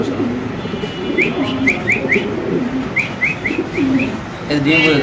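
Pigeons at a pigeon farm coo and call in short repeated bursts close by, over a murmur of background noise and a brief voice near the end.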